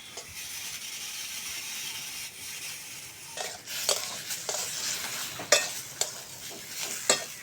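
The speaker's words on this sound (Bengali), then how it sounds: "পটল ভাজা হয়ে গেছে, তুলে নেব।" Pointed gourd (potol) slices frying in oil in a pan, a soft steady sizzle joined midway by sharp scrapes and clinks of a spatula stirring and lifting the pieces against the metal.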